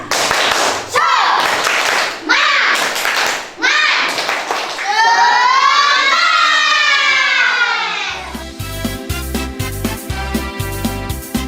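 A class of schoolchildren performs the tepuk semangat clapping chant with their teacher, bursts of sharp claps alternating with chanted group voices, followed by a steady, evenly spaced rhythmic pattern of claps and thumps near the end.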